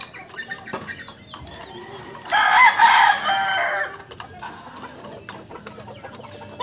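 Chickens cluck and a rooster crows loudly in the middle, with scattered rustling and farmyard clatter around it.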